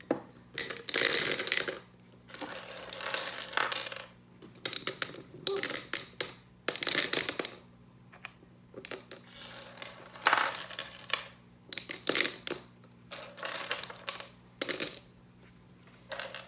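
Glass marbles poured into a glass plant vase, coming as bursts of bright clattering and clinking separated by short pauses, close and fairly loud, with a steady low hum underneath and no talking.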